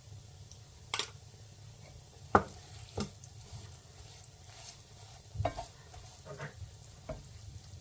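Gondh mixture roasting in ghee in a pan, stirred continuously, gives a low, soft sizzle broken by a few sharp clinks and scrapes of the spoon.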